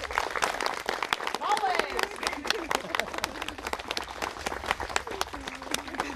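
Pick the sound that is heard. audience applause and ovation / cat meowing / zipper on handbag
audience applause and ovation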